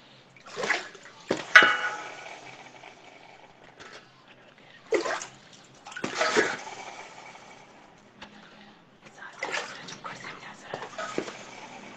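A plastic bottle fitted with a paper blade is lowered slowly into a bucket of water, giving several short splashes and gurgles in separate bursts at close range, with quieter trickling between them.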